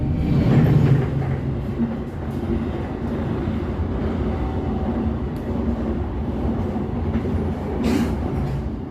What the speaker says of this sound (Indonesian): kereta api Malabar diberangkatkan dari stasiun Bandung